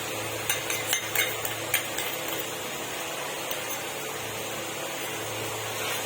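A spoon stirs spice paste around a cooking pan while making a potol, aloo and prawn curry, giving light scraping and clinking with a few sharp metallic taps early on over a steady low background.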